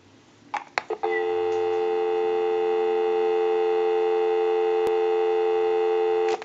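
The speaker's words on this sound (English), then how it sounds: "Go ahead and give you some dial tone." A few clicks, then a steady, loud telephone dial tone from a switch box line holds for about five seconds, with a single sharp click partway through.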